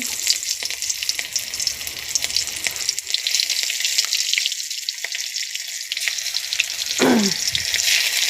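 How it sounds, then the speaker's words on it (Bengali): Panch phoron and chopped onion frying in hot oil, a loud, continuous close sizzle with a brief scrape or stir near the end and no talking. "তেলটা গরম হয়েছে, আমি 5 ফোড়ন দিয়ে দিচ্ছি। তারপরে আমি অল্প পেঁয়াজ কুচি দিয়ে দিচ্ছি।"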